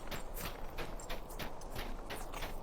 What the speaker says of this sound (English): Now we can get a horse ride to the next area.